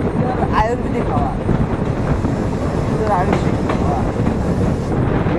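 A train rolls along the track near Kamakhya station in Guwahati, Assam, producing a steady, continuous rumble with clattering and wind buffeting the microphone throughout.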